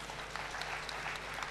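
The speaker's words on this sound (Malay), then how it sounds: "Satu tepukan untuk beliau." Brief, steady applause from an audience at a student council academic forum, honouring a panel member, with dense clapping that holds constant for the whole moment.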